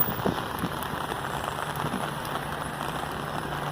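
Steady rain patters and hisses on surfaces nearby, a soft continuous wash with scattered drips and no voices.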